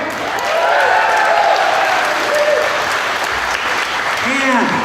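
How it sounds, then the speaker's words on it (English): An award-ceremony crowd claps steadily for the New Beginning Children's Homes charity, with loud, even applause throughout and faint whistles or cheers over the top. "Another big round of applause for New Beginning Children's Homes and all of the good that they do in the world."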